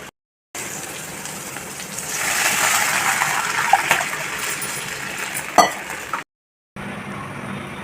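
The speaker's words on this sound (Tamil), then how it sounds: "பச்சை மிளகாய் போட்டு வதக்கிட்டு" Crushed pirandai, garlic and green chili sauté in a pan for a Tamil rasam, giving a steady broadband sizzle and hiss that swells in the middle, with a couple of sharp clinks, then a brief cut before it resumes.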